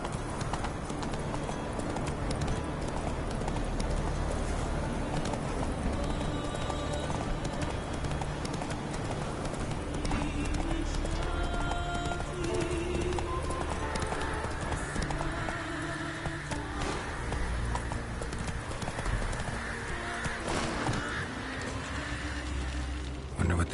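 Roach, a horse in The Witcher 3, gallops with steady rhythmic hoofbeats at close range over a continuous background of game ambience, with an occasional whinny.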